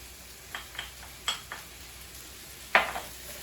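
Garlic and red chilli hit a hot pan for ratatouille, giving a few sharp clinks and brief sizzling bursts against a quiet background.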